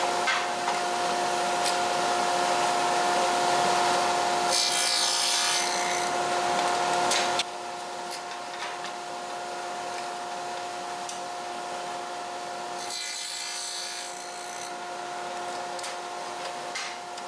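A Shopsmith fitted with a dado blade cuts test grooves in a piece of scrap wood, a loud steady whine with two rougher bursts as the blade bites in, then a quieter run-down.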